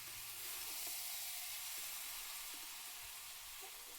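Jackfruit sautés in a pan over a wood-fired clay stove, a soft, steady sizzle and hiss with faint scraping stirs and small ticks.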